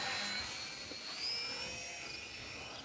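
Electric motor and propeller of a 450 mm Top RC Mini AT-6 model airplane throttling up, a faint steady high-pitched whine that rises slightly and holds.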